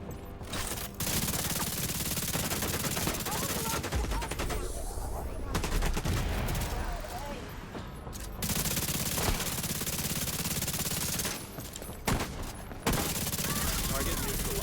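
Gunfire in The Division 2, a video game, with bursts of shots and rattling automatic fire recurring throughout at close range and loud, briefly dropping between volleys.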